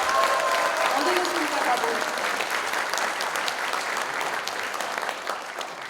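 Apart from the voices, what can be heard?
applause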